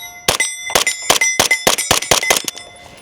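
Nine rapid suppressed 9mm subsonic shots from an MP5 clone with Geissele parts, fired close and loud as crisp metallic cracks with ringing overtones. The pace is quick and slightly uneven, and a quiet tail follows with no talking.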